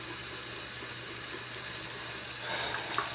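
Tap water runs steadily into a bathroom sink as hands are rinsed between face-cleansing steps with a skincare cleanser, a close, even rushing hiss with a slight splashy lift near the end.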